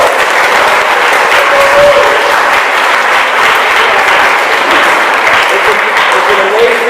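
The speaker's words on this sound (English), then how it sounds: "So give yourselves a round of applause." Sustained audience applause fills a Code Blue orientation gathering in Bridgeton, a dense steady wash of many hands clapping at even loudness throughout.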